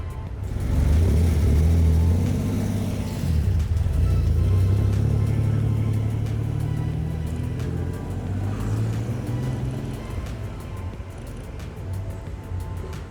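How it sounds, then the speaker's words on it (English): A car rumbles past close by, its engine swelling loudly early on then easing away into a steady fading drone. "Dude, that car is like straight out of a magazine."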